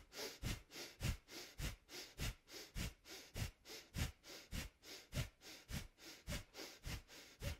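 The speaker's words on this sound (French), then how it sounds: "On inspire, on expire. Toujours avec le nez, puis on va faire ça de manière rythmique." Rhythmic nasal breathing, in and out at an even pace, a steady series of about sixteen close, soft breath pulses without any talk.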